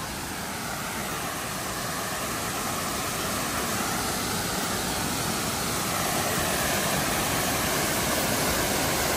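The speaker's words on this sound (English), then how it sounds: "Beautiful waterfall." A waterfall on the Appalachian Trail gives a loud, unbroken roar of falling water that holds steady and swells slightly toward the end.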